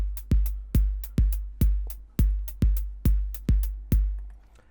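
Punchy electronic bass drum hits from a PO-32 pocket drum machine in a steady repeating pattern, about ten thumps with short decays, dry and alone.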